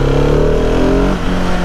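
A Husqvarna 701 Supermoto motorcycle engine pulls hard in a brief, loud burst, its tone sweeping upward as it accelerates close by.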